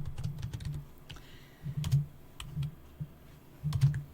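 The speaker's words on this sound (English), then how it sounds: "Even typing's hard." Computer keyboard typing during a Mass Effect 2 play session, quiet irregular clusters of keystrokes with short pauses between bursts, close but soft.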